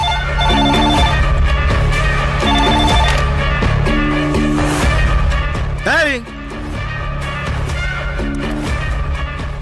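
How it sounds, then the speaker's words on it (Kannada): Telephone ringing indoors in a Kannada TV drama scene, repeated electronic ring bursts in a steady pattern amid music, voices and a brief sweeping sound effect. "ಈ ಸಲ ಫೋನ್ ಬಂದರೆ ನಾನು ರಿಸೀವ್ ಮಾಡ್ತೀನಿ"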